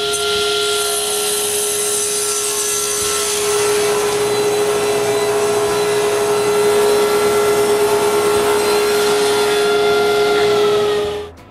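A table saw rips interior door wood to size, a steady loud whine with a constant tonal hum and a gritty cutting noise running throughout before the blade spins down at the end.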